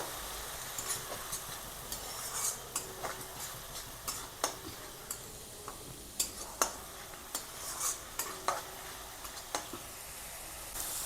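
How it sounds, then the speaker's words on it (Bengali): Onion paste being stirred in a hot pan for an egg roast, soft sizzling beneath repeated light clicks and scrapes of a spoon against the pan at an uneven rhythm, fairly quiet and close. "পেঁয়াজ বাটাটা দিয়ে একটু ভালো করে নাড়বো"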